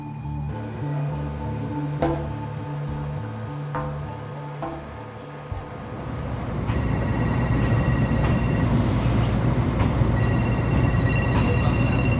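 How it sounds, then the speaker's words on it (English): A train rumbles along the rails with rhythmic clicks and squeals, the noise growing louder and denser midway through. "I'm in a train"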